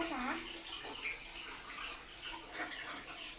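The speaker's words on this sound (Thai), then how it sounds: "วันนี้ก็มาล้างขวดนมให้น้อง" Running water streams steadily while a baby's milk bottle is scrubbed and rinsed at a sink, with a continuous close splashing sound and soft voices underneath.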